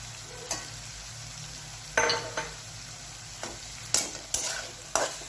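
Potato slices stirred and sautéed in a pan with cooked-down spice masala, for a spicy Maharashtrian potato curry: scattered scraping stir strokes over a soft steady sizzle, fairly close, no talking.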